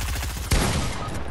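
A single sharp gunshot cracks out halfway through a burst of Fortnite combat, loud and close over steady game background noise.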